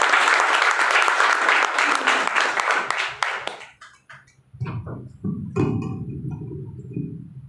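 A crowd at an AWPL business gathering breaks into loud, dense applause that fades out after a few seconds, followed by a person speaking.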